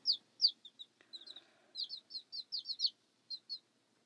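Week-old Mottled Houdan chicks peeping in short, high, bright chirps, sometimes in quick pairs, close by and otherwise quiet, with a brief soft rustle partway through.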